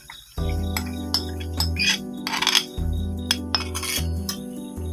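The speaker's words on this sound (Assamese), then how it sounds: "মই ইয়াত এতিয়া কচুখিনি দি ল'ম।" Taro leaves go into a pan of fried fish head masala and are stirred with a metal utensil, giving repeated clinks and scrapes against the pan over a steady background hum.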